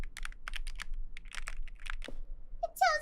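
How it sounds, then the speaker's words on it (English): Rapid clicky keystrokes on a computer keyboard, a burst of separate taps in an uneven rhythm, close and fairly loud, with a brief high squeak near the end. "Do you guys want to listen to my keyboard?"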